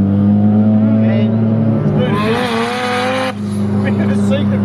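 A Mazda RX4 sedan with a turbocharged 13B bridgeport rotary engine drives past, its engine rising to a loud raspy rev in the middle before dropping away, with voices talking underneath.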